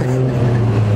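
A Ferrari drives past near a racing stand, its engine a loud, close, steady roar with a strong low tone throughout the brief moment.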